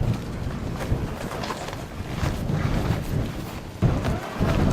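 Wind gusting on a mountain climb near the summit, a loud, rumbling roar buffeting the microphone with uneven surges, continuous and close, with no voices.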